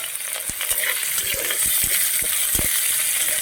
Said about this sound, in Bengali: আলু কেটে নিয়েছিলাম তো ওগুলো আমি ছেড়ে দিলাম প্রথমে এগুলো অল্প অল্প হালকা ভাজা করে নেবো